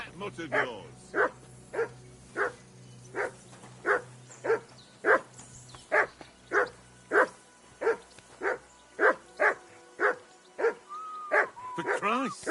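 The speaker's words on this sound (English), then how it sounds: "Henry! Whistle at that mutt of yours to stop barking." Dog barking in the video game Kingdom Come Deliverance 2: a steady run of sharp, evenly spaced barks, loud and close, with a few yips and whines near the end over faint background ambience.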